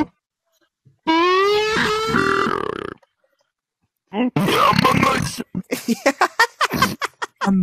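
Loud, drawn-out burps from players in a burp challenge, first one long croaking belch, then after a pause a rough burp followed by a string of short choppy bursts, close to the microphone.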